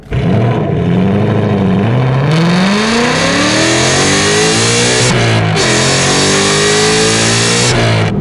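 A loud 2019 Ford Mustang GT engine revs up from low to high pitch as it accelerates from a stop, climbing steadily through gears with a roaring exhaust, very close and sustained.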